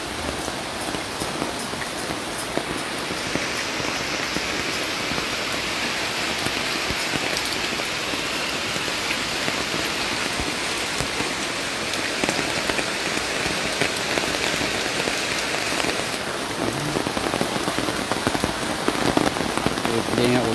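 Steady morning rain falling on surfaces, a dense even patter of many drops that holds constant throughout, close and fairly loud, with no speech over it.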